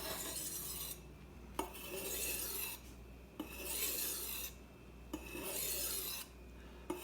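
Kitchen knife drawn along a sharpening surface at a steady angle, giving repeated rasping strokes about every second or two, close and clear with no talking.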